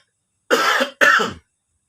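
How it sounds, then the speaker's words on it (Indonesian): Two sharp, loud coughs close together, from someone who has just choked, each a short raspy burst with a brief gap between, heard alone against silence. "Sorry, gue batuk, ini gue kesedak ini, sedak."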